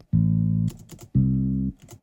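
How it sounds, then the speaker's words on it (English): Simple synth bass from Logic's Classic Bass preset, two sustained low notes each lasting about half a second with a brief gap between, clean and up front with no talking. "It's a very simple bass"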